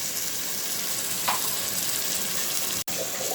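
Cumin and coriander powder spices for biryani frying in a pan, a steady close sizzle throughout with a brief stirring scrape midway.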